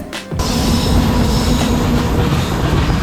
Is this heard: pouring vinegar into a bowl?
no